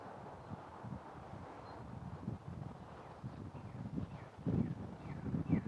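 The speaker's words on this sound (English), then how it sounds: "The sound of the wind in my ear." Outdoor wind buffeting a microphone, a faint low rumble that gusts unevenly and grows a bit stronger toward the end, with soft rustling on top.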